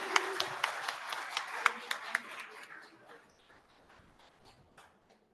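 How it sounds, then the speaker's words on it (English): Community meeting audience applauding working group members, a scattered burst of claps that is brisk at first and then fades out over a few seconds, with some murmuring in the room. "So give them a round of applause."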